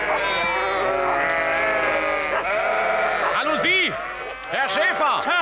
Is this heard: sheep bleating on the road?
yes